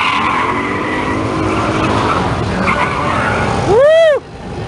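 A 1969 Chevrolet Chevelle SS 396 with an automatic and about 350 horsepower roars loudly and steadily at a muscle car show, then its tires let out a sharp rising-and-falling squeal as it slides sideways under power.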